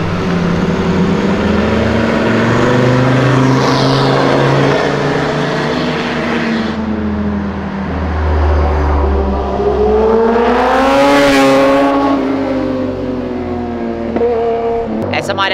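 A turbocharged automatic Mustang revs hard and sweeps past close by, its engine note climbing and then peaking as it passes mid-way. People talk over the loud, continuous engine roar.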